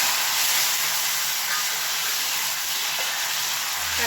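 Continuous sizzling and hissing of chopped tomatoes sautéing in hot oil for rasam, steady and close, with no talking.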